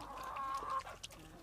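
Chickens give a short clucking call at close range, a single brief vocal burst with no talk over it.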